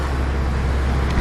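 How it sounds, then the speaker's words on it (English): Road traffic rumbles along a street near Kata Beach in Phuket, a brief stretch of steady, low engine and tyre drone from passing vehicles, fairly loud and close, with no talking. "Sorry about the traffic, can't really do a lot about it."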